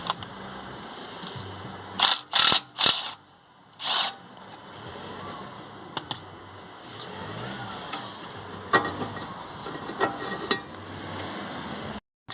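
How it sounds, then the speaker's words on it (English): A 3/8 Milwaukee impact gun works a locking wheel nut on a Range Rover Evoque, several short loud bursts of rattling hammering near the start, then quieter clicks and clunks of handling. "Got her on the Milwaukee gun here,"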